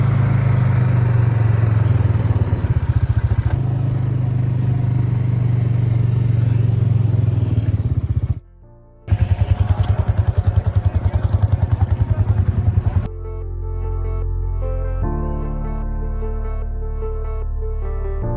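A loud ATV engine sits close by, revving hard as the accelerator is pressed, then cuts out briefly before roaring again and settling into a lower, steadier running note.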